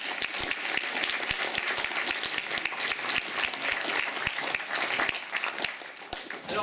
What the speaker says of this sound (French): et on peut les applaudir bien fort.